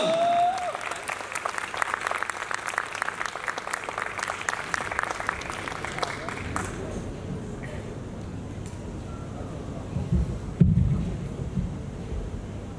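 A crowd claps for a stage host at an Urdu comedy hosting event. The applause is dense and sustained for about six seconds, then fades into murmur and ambient rumble.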